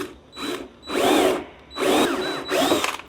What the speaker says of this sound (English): Switch to my narrower bit. That wide bit was making a really big hole.